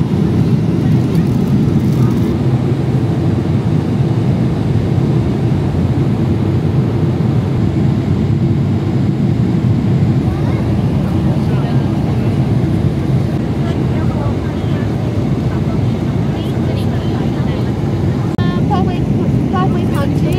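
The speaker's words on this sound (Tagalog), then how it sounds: "nandito na tayo sa loob ng aeroplano patungong Taiwan." Airliner cabin in flight to Taiwan, a loud, steady, unbroken engine and air roar filling the whole stretch with no change in level.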